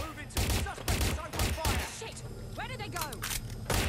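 Rapid bursts of gunfire from the video game Watch Dogs Legion, a loud fusillade of repeated shots in quick clusters, with a voice speaking over the shooting.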